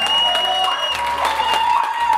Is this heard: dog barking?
no